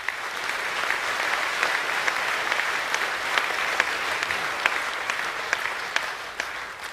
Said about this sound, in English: I'd like to offer a hearty round of applause.